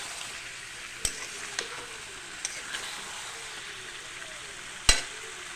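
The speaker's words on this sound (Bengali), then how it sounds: "দিয়ে আমি একবারে সব এটাকে কষাতে থাকবো।" Chicken masala with whole onions sizzling gently in a pan, a soft steady fry broken by a few spoon clanks against the metal, the last one louder.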